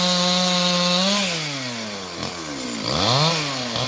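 Chainsaw felling trees while land is cleared on a farm, its engine whining steadily, then dipping and rising in pitch as it bites into wood, loud and close throughout with no talk.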